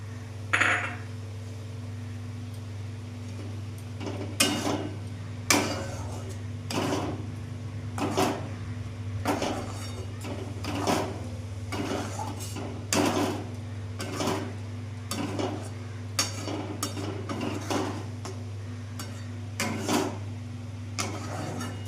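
Dried fish is added to spice masala in a pan and stirred for a Bengali dry fish chutney. A spoon makes repeated irregular scrapes and taps against the pan over a constant low kitchen hum, with no talking.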